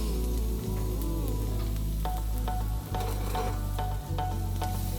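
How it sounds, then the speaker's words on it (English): Garlic sizzles in hot oil as it is tossed around a pan, a dense, steady frying crackle broken by a few brief dips and the scrape of stirring. "I'm gonna grab the garlic and put it in the hot oil and just toss it around a little bit"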